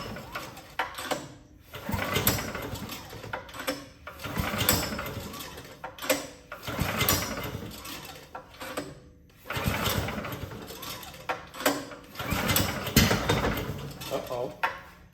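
Predator 459 engine swapped into a Club Car golf cart, cranking and catching in loud, rough bursts that surge and drop repeatedly rather than settling into a steady idle.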